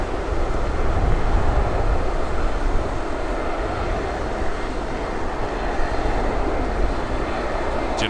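An aircraft running up its engines on the ground at Toronto Pearson on a cold night, a loud continuous low rumble and roar that stays steady for several seconds, with no voices.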